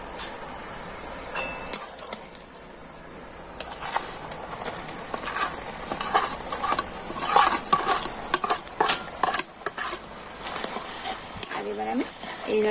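Crumbled stale roti is stirred into boiled, curdled sour yogurt in a pan, with irregular close scrapes and clinks of a spoon on the vessel. A voice talks over much of it.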